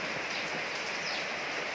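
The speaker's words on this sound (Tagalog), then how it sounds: "Parang ikatlong araw na ito guys na umuulan." Rain falls steadily on a gloomy day, a dense, even hiss with no breaks, moderately loud and close.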